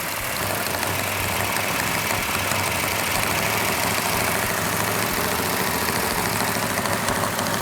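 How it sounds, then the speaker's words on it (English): A newly built Plymouth GTX engine runs steadily at raised RPM for cam break-in, a loud continuous mechanical drone with some valve-train chatter and no pauses or voices. "We're gonna hold the RPM up so the cam can break in."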